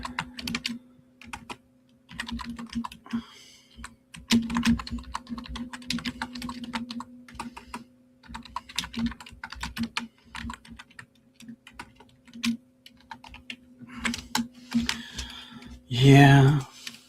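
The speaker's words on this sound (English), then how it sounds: "Sorry, I'm just typing a message." Continuous clacking keystrokes on a computer keyboard, in irregular bursts, close up under steady background hum, with a person talking intermittently over the typing.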